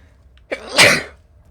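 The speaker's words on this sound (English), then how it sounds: "I'm about to sneeze." One close, explosive sneeze with a quick sharp intake before the burst.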